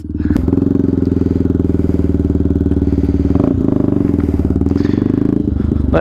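Close, loud Benelli TNT 125 motorcycle engine held at steady high revs through a wheelie, a continuous buzzing drone with a brief dip and recovery midway, heard alone without talk.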